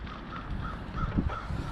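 Faint caw-like bird calls, about four short notes evenly spaced, come from somewhere distant over steady background noise in a garage where a car is being worked on.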